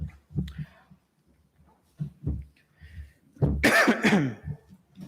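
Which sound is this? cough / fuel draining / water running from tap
cough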